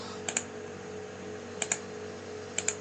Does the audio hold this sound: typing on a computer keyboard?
yes